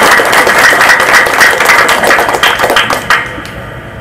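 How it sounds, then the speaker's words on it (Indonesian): Crowd applause from an audience at a large community gathering, a dense, steady wash of many hands clapping that carries on for several seconds before thinning out near the end. "Tepuk tangan dulu orang Lakudo."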